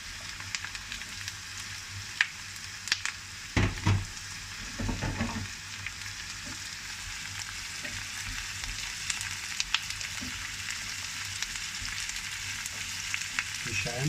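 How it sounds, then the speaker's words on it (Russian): Celery tossed into hot golden oil for a Sicilian caponata, a steady moderate sizzle with a brief louder burst as the pieces drop in, then a settled even frying hiss with no talking. "Когда оно становится такое золотистое, прозрачное, добавляем сельдерей. Бросаем сельдерей."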